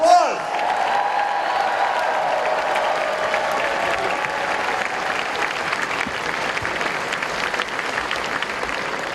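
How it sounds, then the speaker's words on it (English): A large audience at a Democratic Party event in New Hampshire bursts into sustained applause for an award recipient, loud and continuous, with a brief voice at the very start. "Give him a big round of applause."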